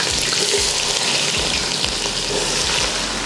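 Sliced big onions dropped into hot oil with cardamom and cloves for mutton biryani, frying with a loud, continuous sizzle and crackle close by, with occasional stirring scrapes.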